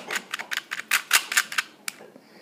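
A rapid series of sharp plastic clicks and snaps from a YJ GuanPo speed cube being turned, close and crisp, in quick irregular bursts that then stop.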